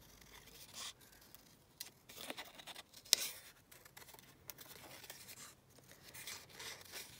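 Scissors snip a large paper flower out of a journal page, producing soft, intermittent cuts and rustling close by, with one sharper snip partway through and no talking.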